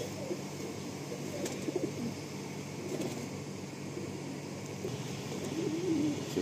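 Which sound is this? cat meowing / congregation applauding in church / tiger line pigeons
tiger line pigeons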